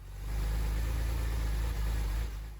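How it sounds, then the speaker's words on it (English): A rebuilt Porsche 911 Carrera M96 flat-six engine runs steadily at idle after its complete rebuild, a deep, close, continuous rumble with a slightly lumpy pulse and a brief dip midway. "ran the engine for a solid 2 minutes straight"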